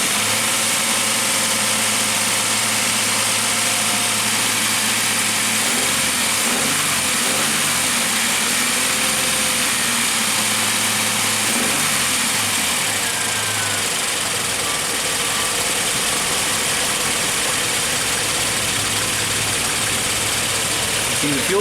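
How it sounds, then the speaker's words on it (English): A car engine runs nearby during a timing light check, rising in pitch as it revs a few times, then settling to a steady hum with speech faintly underneath. "So let's rev it up a little bit."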